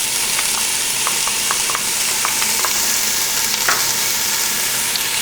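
Diced celery sizzles in a pan with onions for a Bolognese sauce, a loud, steady frying hiss broken by light clicks of stirring.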